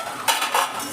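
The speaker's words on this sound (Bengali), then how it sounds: "দেখুন, কড়াইটা আমি ঢাকা দিয়ে রেখেছিলাম ওই 1 মিনিট মতো। এবার আমি ঢাকাটা খুললাম।" A lid is lifted off a wok during cooking, making two quick metallic clinks in close succession over a faint background hiss.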